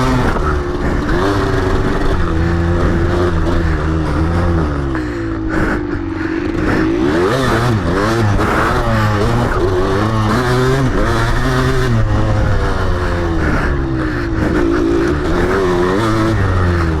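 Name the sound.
1994 Kawasaki KDX 200 motocross bike engine riding on track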